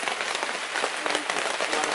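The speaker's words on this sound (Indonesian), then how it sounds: "Ini pas hujan juga," Rain falling during a hike on Mount Slamet via the Bambangan route, a steady, dense patter hissing without pause and with no talking.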